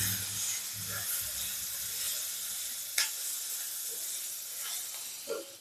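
Half a capsicum frying in a pan for ragi kichadi, giving a steady close sizzle and hiss with a couple of faint clicks of stirring.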